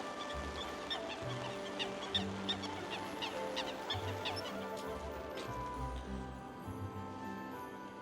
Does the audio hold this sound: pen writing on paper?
no